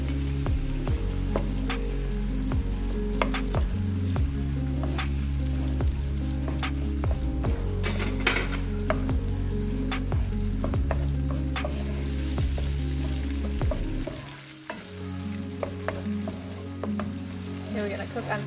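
Chopped tomato sizzling and being stir-fried in a pan for Indonesian tempeh woku, a dense continuous frying crackle with spatula scrapes and clicks, a steady hum underneath that briefly drops out near the end.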